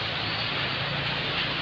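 Steady rain falling during a heavy night downpour, a continuous dense hiss that fills the clip evenly with no voices over it.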